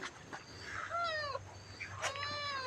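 Tiny motherless kittens meowing, several high, thin wavering cries close by with short pauses between them, over a quiet background.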